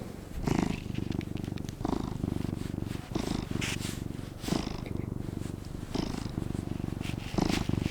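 White cat purring close to the microphone in a greenhouse, a steady low rumbling purr rising and falling with each breath, with faint rustling over it.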